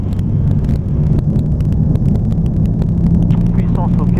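Light aircraft engine running up to full takeoff power on runway 31 at Nogaro, a loud, steady droning rumble heard from inside the cockpit with a pilot talking over it.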